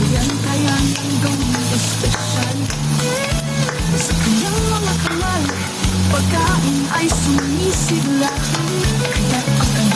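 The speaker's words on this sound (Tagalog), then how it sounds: "So ayan, maglagay na ako ng oil. Siyempre, alam na this, bawang." Garlic frying in hot oil in a preheated pan, a loud steady sizzle and hiss running the whole time beneath faint background music.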